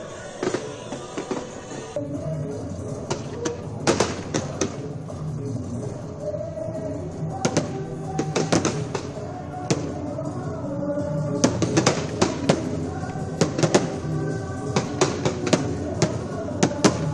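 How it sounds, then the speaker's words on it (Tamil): Diwali fireworks at the Ayodhya Ram temple pop and crackle in scattered bursts and short clusters over a steady background rumble, heard from a moderate distance. "அயோத்தி ராமர் கோவிலில் விமர்சையாக கொண்டாடப்பட்ட தீபாவளி, விண்ணதிரும் வகையில் களை கட்டிய வான வேடிக்கை"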